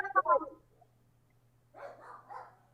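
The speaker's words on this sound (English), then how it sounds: "my dogs are barking" Dogs bark in short bursts, a quick cluster of yips followed by a pause, then a few more muffled barks, heard over a quiet room with a low hum.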